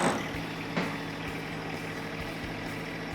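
A John Deere tractor fitted with a 120E loader idles nearby, its engine giving a low, steady rumble after a short clunk at the start.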